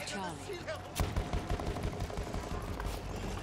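Rapid bursts of in-game gunfire in Battlefield 1 patter quietly and fairly distantly, mixed with other battle noise and a voice speaking over the action.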